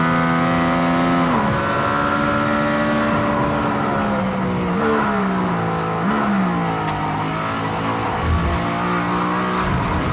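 A Mercedes-AMG ONE hypercar revs hard at speed on a track, its engine note loud and close as the pitch climbs, drops and climbs again through gear changes across the whole stretch.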